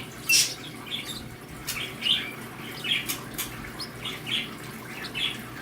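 Busy bird chirping with short bright tweets and squawks repeating every second or so, over a steady low background hum; no voices.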